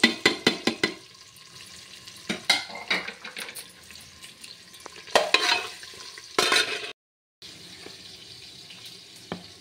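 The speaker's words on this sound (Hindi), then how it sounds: "अब मैं इसमें जो है प्याज ऐड कर रही हूँ।" Onion frying in hot oil in a pan while being stirred, with scraping stirs and clinks over a soft sizzle, close and fairly loud in bursts, with a brief silent gap near the end.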